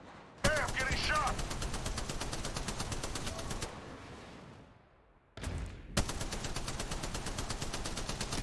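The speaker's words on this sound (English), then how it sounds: "Hey, I'm getting shot!" Rapid automatic gunfire in the Apex Legends video game rattles loudly in two long bursts separated by a brief lull, with a voice speaking near the start of the first burst.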